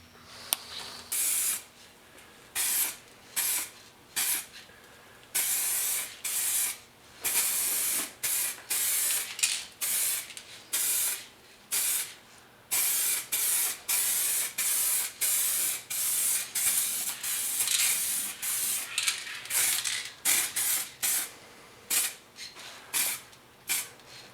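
Short bursts of a spray gun laying a low gloss clear coat over a welded rust repair, repeated hissing blasts in an irregular rhythm with brief gaps between passes, close and fairly loud with no talking.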